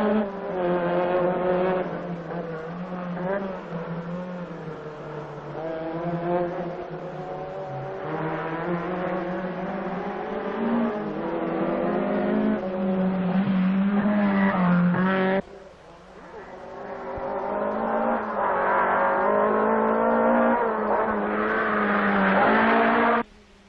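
Lancia Stratos and Fiat Abarth rally cars at the 1975 Monte-Carlo Rally, engines howling loud and close as they rev up and down through the gears, with a brief dip and then another rising pass.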